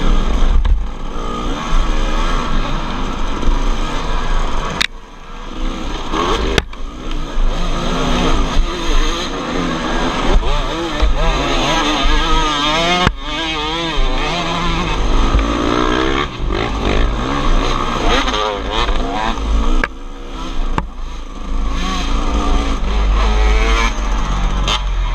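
A dirt bike engine revs hard and continuously during a GNCC off-road race, loud and close throughout, with the throttle rising and falling in rapid surges.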